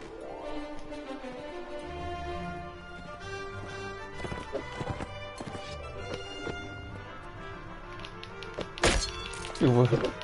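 Horse hooves in Mount & Blade: Warband clop and thud under a busy game mix with a steady musical drone, while a voice talks over it and a sharp crash rings out near the end.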